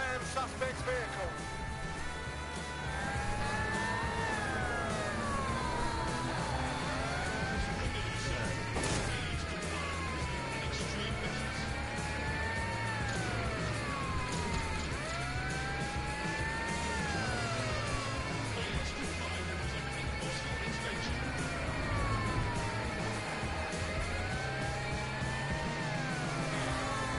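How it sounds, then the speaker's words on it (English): A Watch Dogs Legion car chase blares a police siren that wails up and down repeatedly over revving engines and thumping impacts, loud and close, with radio voices talking. "Preparing to ram suspect's vehicle."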